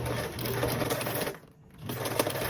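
A sewing machine bastes a zipper to stiff mesh with a 1/8 inch seam allowance, whirring steadily and close, with a brief pause in the middle before stitching resumes.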